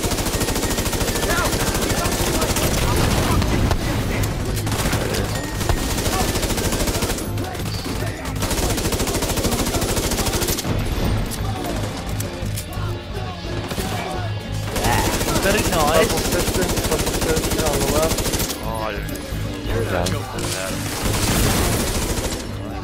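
Loud, sustained automatic gunfire in The Division 2, heard during the Lincoln Memorial mission as dense continuous bursts broken by brief lulls.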